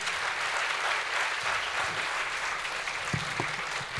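Audience members at a water forum applaud a speaker being introduced, a continuous, fairly loud patter of many hands throughout, with a few sharper claps standing out near the end.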